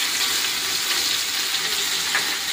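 Ridge gourd sizzles in a hot pan with turmeric, spice mix and salt, a steady close hiss and crackle of frying that holds at an even level throughout with no voices.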